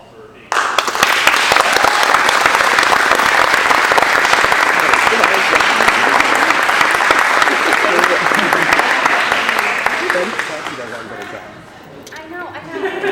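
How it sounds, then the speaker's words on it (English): An audience bursts into a loud, dense round of applause that holds steady for about ten seconds, then thins out and fades toward the end. "So I'd like to give them a thank you and a round of applause for being here."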